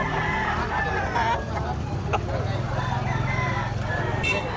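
A black-legged bullstag rooster crows amid a noisy poultry market crowd in Carbon, Cebu, with chatter and babble running underneath throughout.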